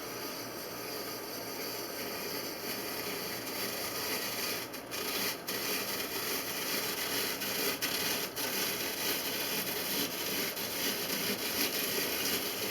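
Hand-cranked apple peeler turning as its blade cuts the peel off an apple, a steady continuous rubbing, scraping texture held close throughout with a few faint clicks.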